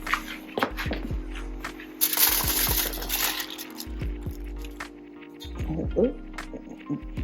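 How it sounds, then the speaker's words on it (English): Cooked ziti pasta is dumped from a colander into a pan, heard as a run of wet, clattering plops and scrapes with a burst of sloshing in the middle, close by and fairly loud, with talking over it. "I'm just gonna dump this right in the pan."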